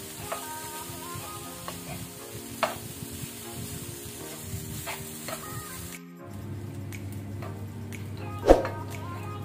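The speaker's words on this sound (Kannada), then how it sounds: "ಈಗ ಇದನ್ನು ಒಳ್ಳೆ ರೀತಿ ನಾವು ಹೈ ಫ್ಲೇಮಲ್ಲಿ ಮಿಕ್ಸ್ ಮಾಡ್ಕೊಳ್ಳುವ" Sweet corn rice with butter stirred in a pan over a high flame, sizzling steadily with soft scraping, then a brief clank near the end.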